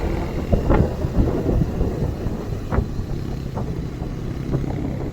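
Motorcycle engines rumble steadily outdoors on the Yamunotri route, with a few passing swells, under gusty wind buffeting the microphone; no talking.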